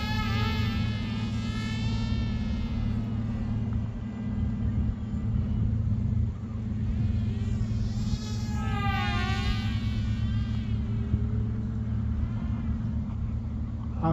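A KFPLAN KF700 J20 brushless RC jet takes off and flies, its electric fan giving a high, buzzing whine that rises and falls in pitch over a steady low rumble and stays fairly loud throughout.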